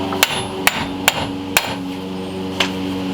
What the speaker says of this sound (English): You can whack the hub bearing if you want to